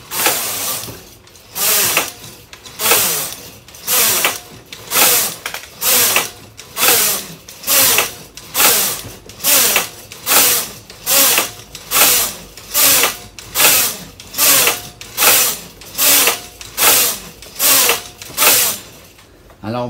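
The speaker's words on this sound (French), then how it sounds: "Je vais tricoter quelques rangs." Knitting machine carriage sweeps back and forth in a steady rhythm for row after row, each pass a loud rattling whir with brief pauses between, continuing evenly throughout.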